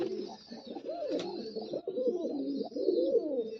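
Domestic pigeons being conditioned for racing coo continuously at close range, a steady chain of soft throaty rolling calls with no talking over them.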